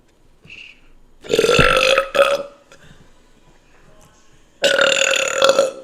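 Two long, loud burps in a burping contest, the first lasting nearly a second and the second coming after a quieter stretch, with faint background voice between them.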